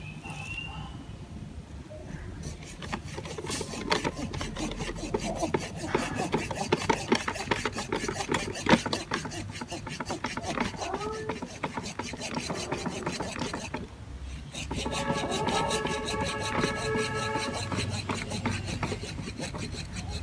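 A hand saw cuts through a bonsai trunk in steady back-and-forth strokes, a close, continuous rasping that pauses briefly before resuming, with faint talk in the background.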